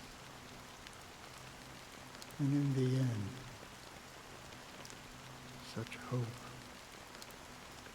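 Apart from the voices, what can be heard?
rain falling in the video game Honkai Star Rail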